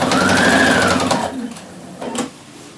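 A sewing machine stitches down the front of a shirt, pivoting at the lapel, in a steady close whirring run of about a second, then a brief second burst after a pause.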